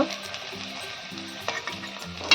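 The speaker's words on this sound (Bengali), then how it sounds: "এই গ্যাসটা আমি মিডিয়ামে করে ভেজে নেব, ওলট পালট করে" Maida flour snacks deep-fry in a pan over a medium flame, a close, steady crackling sizzle with faint stirring and a sharp clink of the utensil right at the end.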